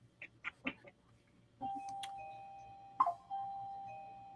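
Indoors, a doorbell rings twice with a sustained electronic chime, faint and somewhat distant, after a few soft knocks and shuffles.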